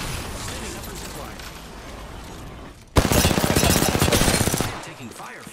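Heavy automatic gunfire in the game Apex Legends erupts suddenly after a quieter stretch of game ambience, a loud, dense rattle of rapid shots lasting about two seconds before easing off.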